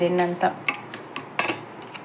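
Onion, curry leaves, green chilli, turmeric, chilli powder and salt mixed in a bowl for a bread omelet, giving a few close clinks and scrapes of a utensil against the dish, brief and moderately loud.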